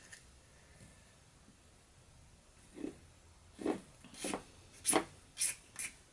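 Sandpaper rubs a 3D-printed PLA part in a handful of short scratchy strokes that grow louder and quicker toward the end, after a quiet start.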